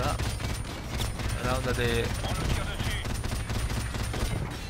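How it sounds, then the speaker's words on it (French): Heavy, continuous gunfire and explosions in Call of Duty: Modern Warfare Remastered form a dense, loud battle din while someone talks over it. "Qui c'est qui me tire dessus là?"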